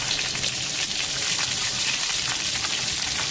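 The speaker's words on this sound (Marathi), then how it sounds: "आता यामध्ये मी ऍड करणार आहे ह्या चिरून घेतलेल्या मिरच्या" Chopped green chillies hit hot oil in a pan and fry with a loud, dense, steady sizzle that crackles evenly throughout, close and without pause, with no talking.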